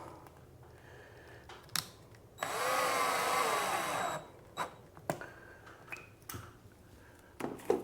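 A cordless drill whirs steadily for about two seconds, driving a screw into sheetrock while a light fixture is installed, framed by faint clicks and handling knocks, with no talk.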